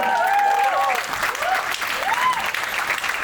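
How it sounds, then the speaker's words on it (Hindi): An audience at a film fan meet gives the performers loud, sustained applause, with cheering voices rising through the steady clapping. "एक बार जोर से ताली बजाएंगे।"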